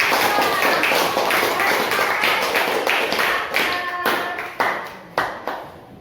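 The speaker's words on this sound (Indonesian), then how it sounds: "Mari kita berikan aplaus untuk kelompok 2" A class of fourth-grade pupils claps for a group's presentation, a loud, dense burst of many hands that thins out into a few scattered, separate claps near the end.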